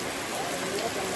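Steady rain falls at a highland eco-park resort, making a dense, even patter close by with a continuous wash of drops and no spoken words.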